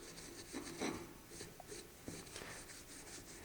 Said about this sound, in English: And you'll start rubbing the excess wax off. And then kind of buffing the surface.